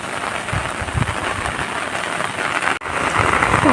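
Heavy May rain pouring down, a dense, loud, unbroken hiss of water on surfaces, near and steady with a brief dip near the end, no talking.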